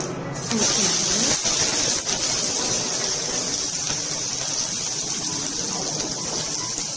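Onion frying with popped mustard seeds in a pan for ladies finger pachadi, giving a steady, loud, broad sizzle that holds constant throughout.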